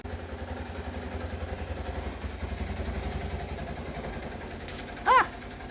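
The engine of a Kawasaki KLT185 ATV runs close by, a steady pulsing clatter with a short sharp burst near the end.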